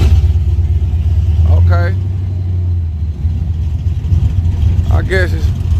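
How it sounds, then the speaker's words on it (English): A stock car engine with a cam idles with a loping, low rumble beneath a brief rev, close and steady throughout, while people talk briefly over it at a car meet. "Let me hear it. What that motor sound like."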